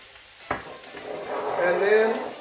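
Pepper tossed into a hot frying pan during home lunch cooking: a sharp tap of it landing, then a rising, steady sizzle that swells and holds close by, alone without talk.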